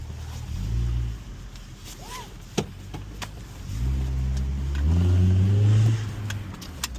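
A car engine rumbles in a basement garage, its low exhaust note swelling as it revs twice, with a faint click and distant background noise in between.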